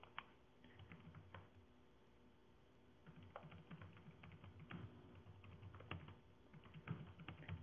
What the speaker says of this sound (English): I'm just typing this in, see if it can come out.